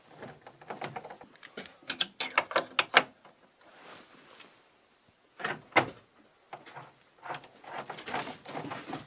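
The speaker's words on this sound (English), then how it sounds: "So we have to remove this screw" A screw is worked out of a Leviton circuit breaker load center, with bursts of quick ratcheting clicks from a hand tool, close and clear, broken by short pauses and small metallic handling sounds.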